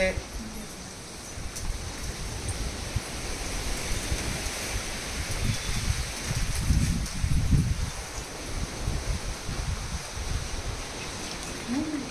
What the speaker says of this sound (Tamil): பயங்கரமா அடிக்குது காத்து.